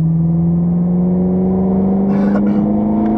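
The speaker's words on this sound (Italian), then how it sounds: "In accelerazione andiamo verso il birillo" A car accelerates through a driving course on the Imola circuit toward a cone, its engine holding a steady loud drone with a slowly rising pitch, no talk over it.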